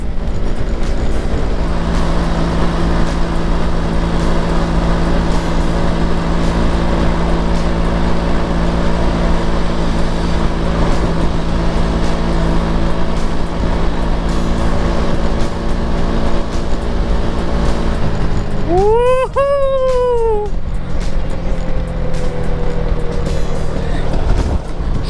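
A Honda Helix CN250 scooter engine hums steadily while riding, sputtering unevenly, with a brief rising-and-falling rev near the end, close and continuous.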